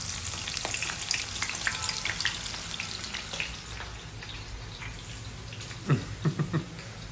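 Onions fry in hot oil for a mutton biryani, giving a continuous crackling sizzle at close range, with a few utensil knocks near the end.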